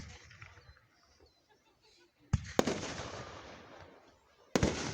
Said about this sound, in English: fireworks have been helping us for years